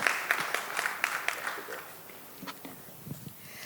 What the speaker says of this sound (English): Big clap to Dr.